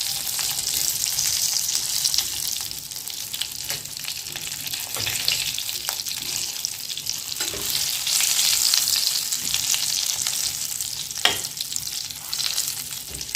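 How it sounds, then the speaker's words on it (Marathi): Stuffed brinjals fry in oil with a continuous bright sizzle that swells and fades, while occasional scrapes and clinks of stirring sound over it. "तेलात कधी पण वांगी ना थोडंसं भाजायचं"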